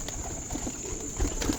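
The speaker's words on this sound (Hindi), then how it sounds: "बहुत आला कबूतर है जी, छोटे से साइज़ का, बड़ा लाइट वेट कबूतर है" Small lightweight pigeons coo softly on a rooftop loft in Lahore, a few faint low coos scattered over steady background hiss and a high electrical whine.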